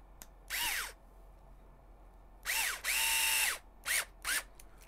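A power screwdriver drives screws into the transmission brace of an HPI Venture SBK RC car kit, heard as one short whirring burst, then longer bursts and two quick final pulses, close and with no talking.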